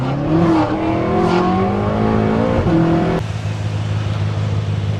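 BMW M5 F10 stage 2 with its 4.4 litre biturbo V8 runs nearby, a steady deep rumble with a few revving swells early on before it drops into an even, lower idle.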